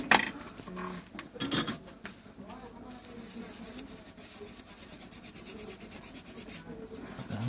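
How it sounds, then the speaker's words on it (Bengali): A cloth wipes a phone circuit board clean during IC reballing, giving close, rhythmic rubbing strokes after a few scattered handling knocks. "এই কাপড়টা দিয়ে মুছে নিচ্ছি"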